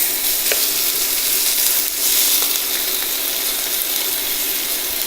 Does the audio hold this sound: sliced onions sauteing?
yes